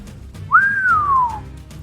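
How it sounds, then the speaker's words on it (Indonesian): A young man gives a single rising then slowly falling whistle, clear and close, lasting under a second over a quiet background. "Si pemuda keluarkan suara bersiul."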